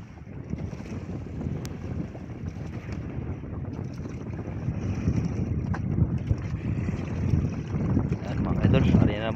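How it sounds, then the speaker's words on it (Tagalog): Strong, gusty sea wind buffets a small boat off Coron as a squall moves in. Broad rushing wind noise and water wash fill the whole stretch and grow louder toward the end. "medyo lumakas yung hangin mga ka-idol"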